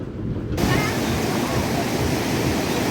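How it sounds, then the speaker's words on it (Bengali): A fast hill stream rushes loudly over rocks in the mountains of North Bengal, a dense, steady roar of water that swells up just after the start. "জলের স্রোতটা অনেক বেড়ে গেল অনেকটাই বাড়লো"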